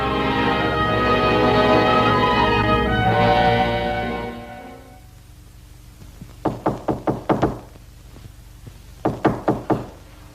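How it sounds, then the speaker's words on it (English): Knocking on a door in a 1955 film noir scene: two quick bursts of sharp raps, five or six knocks then a shorter group of three, heard clearly after music fades out. "Frank, there's someone at the door"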